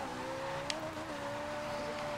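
Toyota MR-2 SW20 engine in Forza Horizon 2 held at a steady high rev, a sustained whining drone that shifts slightly in pitch throughout, loud and up close with no talk.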